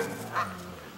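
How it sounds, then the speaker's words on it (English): A dog gives one short, sharp bark at geese outdoors, near and fairly loud against a quiet background on a day of light rain. "She barks at them."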